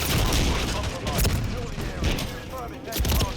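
Rapid, loud gunfire from an MCPR-300 sniper rifle in a video game, with several sharp booming shots across a few seconds over a dense, noisy backdrop.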